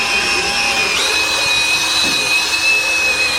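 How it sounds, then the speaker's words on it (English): Steady whirring drill with a spinning round brush scrubbing car carpet in a BMW E46, a continuous even drone with a thin high whine throughout. "using this circled brush on my drill,"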